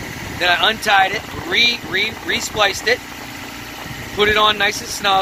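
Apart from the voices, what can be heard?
sailboat engine running (Tayana 37)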